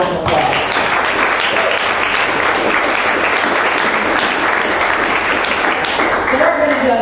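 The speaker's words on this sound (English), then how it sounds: "we give him a round of applause" A live audience downtown gives a sustained, loud round of applause for an Akron police veteran, dense clapping that holds evenly for several seconds with faint voices mixed in near the end.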